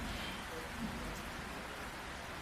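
Steady rain hisses softly and continuously, quiet and even, with no clear voices.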